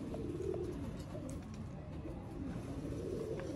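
Pigeons cooing softly and steadily, a low continuous murmur from a group of pet birds being let out of their loft, faint and alone with no voices.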